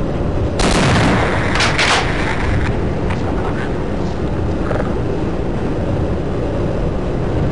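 A shotgun in the video game Half-Life: Opposing Force fires one loud, close blast followed by a few quieter thuds and rumbles over continuous game background noise.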